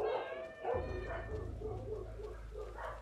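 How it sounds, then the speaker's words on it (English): Dogs bark and whimper in the video game Eternal Darkness: Sanity's Requiem, heard faintly over a low droning game soundtrack. "The dogs are barking."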